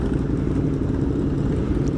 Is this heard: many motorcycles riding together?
yes